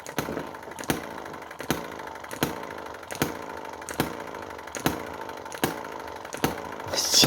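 A small Chinese hit-and-miss model engine runs steadily, its sharp firing beats landing roughly every 0.8 seconds over a continuous mechanical clatter, close and fairly loud with no voices.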